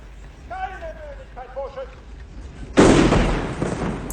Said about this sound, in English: They're shooting for fun.